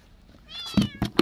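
Cats meow a few times in short, rising calls, close by, with quiet room sound in between.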